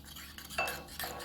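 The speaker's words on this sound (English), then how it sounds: "So you want to stir that as soon as you add the water to it." Utensil stirring a cornstarch and water mixture for gravy in a small container, soft scraping and clinking strokes, close and fairly quiet.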